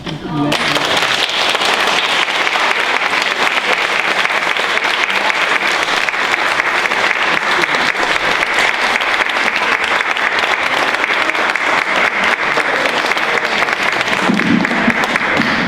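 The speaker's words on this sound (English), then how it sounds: "I think he deserves another round of applause." Long, steady round of audience applause at a genealogy society talk, dense clapping close and loud for the whole stretch, with a brief voice near the end.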